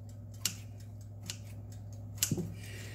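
A few crisp snips of scissors, sharp and close, spaced unevenly over a quiet background with a low hum.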